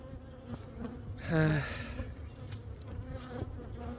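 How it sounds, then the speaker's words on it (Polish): Honeybees buzz around a hive in a low, continuous drone, with one bee passing close and loud for a moment before fading back into the steady hum. "Kilka pszczół wciąż atakuje."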